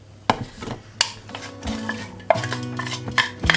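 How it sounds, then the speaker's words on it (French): Minced garlic and onion added to heated oil in a frying pan, a soft sizzle broken by sharp clinks and scrapes of a utensil against the pan, close by, with no voices. "Je vais ajouter l'ail et l'oignon que j'ai émincé."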